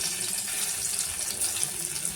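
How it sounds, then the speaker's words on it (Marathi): Water poured out of a pot of soaked soybeans, a continuous close splashing gush with an even level throughout and no voices. "आता हे पाणी ओतून द्यायचं आणि दुसरं थंड पाणी यामध्ये घ्यायचं"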